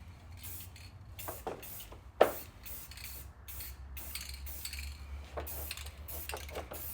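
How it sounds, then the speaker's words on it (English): Spray can bursts applying satin black paint to a rusty Nissan D21 pickup bumper, several short hissing passes spaced over a low background rumble, with one sharp knock partway through. "You always want to be moving. You never want to spray in the same spot"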